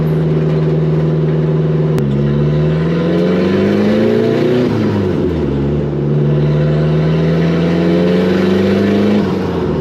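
A nearby chassis-swapped 1959 Mercedes rat rod engine revs up and down in sustained, loud pulls, with fluttering turbo noise as the revs change.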